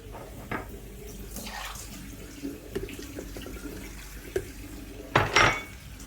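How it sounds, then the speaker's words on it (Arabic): A small splash of water goes into a chutney sauce, with soft trickling and light clinks of a pot or utensils, ending in a louder pouring burst near the end. "هنضيف شويه ميه صغيرين"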